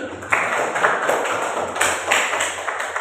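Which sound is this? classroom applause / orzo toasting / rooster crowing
classroom applause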